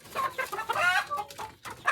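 Tiger breed hens and roosters cluck and squawk close by in a rapid, agitated series of calls, ending with a sharp louder cry, with no talking.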